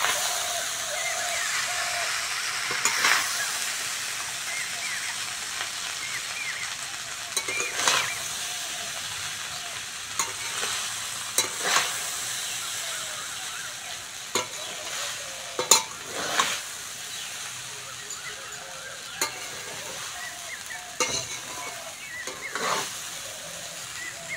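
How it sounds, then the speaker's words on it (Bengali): Cooked rice stirred into fried vegetables in a pan for fried rice, a steady gentle sizzle under repeated scraping and tapping spatula strokes that recur every few seconds. "ভালো করে সবজিগুলো ভেজে নিয়েছি, এইবার ভাতটা দিয়ে দেবো। হালকা হাতে নেড়ে নেব।"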